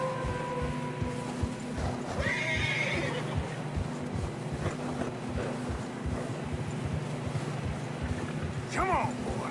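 Horses in the Red Dead Redemption 2 video game trudge through fresh snow on a narrow path, with a steady rhythmic hoof plod, a couple of whinnies, and wind under the game's speech.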